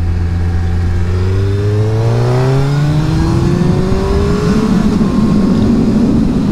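A Suzuki Hayabusa motorcycle accelerates hard on a test ride, its loud, close engine note sweeping steadily upward in pitch through a long pull amid rushing wind.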